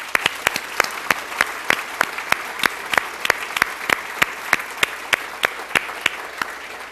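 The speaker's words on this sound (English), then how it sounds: "Can we give them a round of applause?" An indoor meetup audience claps loudly and steadily. Many hands beat in a quick, even rhythm for several seconds, close and alone, with no cheering or talk over it.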